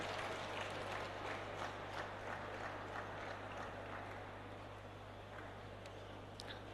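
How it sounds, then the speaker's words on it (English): Faint, distant audience clapping at a food fair inauguration, a thin, scattered patter of hands that sits under a steady electrical hum and tapers off toward the end. "Keep clapping."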